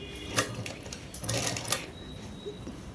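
A sewing machine stitches a shirt at home, its faint mechanical clatter rising and falling in a few short runs over a low background hum.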